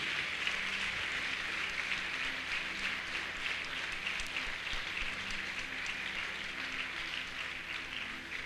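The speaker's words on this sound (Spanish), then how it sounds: "Denle un aplauso bien fuerte a Jesús" An evangelical church congregation applauds loudly for Jesus during a sermon, a dense, steady wash of clapping from many hands that carries on unbroken without speech.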